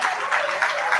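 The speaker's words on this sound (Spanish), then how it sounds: "Un aplauso para Cris" A conference audience applauds in steady, continuous clapping for about a second, filling the room without talk.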